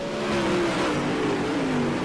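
Super late model dirt race cars roar around Lernerville Speedway in an A-main, with a loud, sustained engine drone and a pitch that slides gradually as a car passes, with no voices over it.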